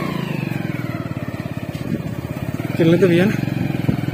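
A motorcycle engine runs steadily on a rough, muddy village road, its throbbing drone continuous under nearby voices, with a brief louder surge of talk near the end.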